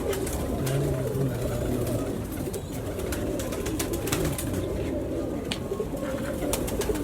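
Pure-breed pigeons coo softly at a breeder's loft, low murmuring calls over a constant dense background hum with scattered clicks; no one speaks.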